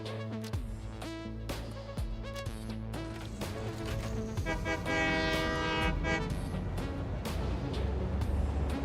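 A train horn sounds in the video game Satisfactory, sustained harmonic blasts over the low rumble and clatter of a moving train, loud and close with no talk.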